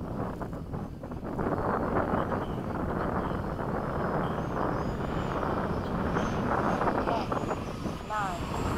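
An FMS 70mm F/A-18 electric ducted-fan model jet roars past on a gusty day, a broad steady rush under heavy wind buffeting, with a voice talking over it.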